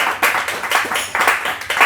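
A church congregation gives an offering of applause to the Lord during a Spanish-language service, rhythmic group clapping in quick, fairly loud bursts over about two seconds.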